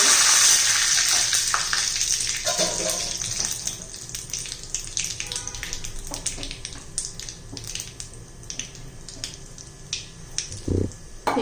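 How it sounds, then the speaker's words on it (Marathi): Mustard and cumin seeds sizzling in hot oil for a tempering, a loud hiss at first that eases into crackling pops and a few utensil knocks, close by with no talking. "आपण तडका देऊन घेऊया आता"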